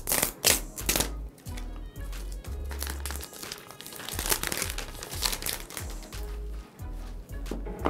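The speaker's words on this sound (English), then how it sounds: "I'm going to shut up and give you an ASMR-ish experience of plastic" Plastic packaging from an iPhone XS box being crinkled and crumpled up close, crisp crackling bursts coming in irregular handfuls over several seconds with no talking.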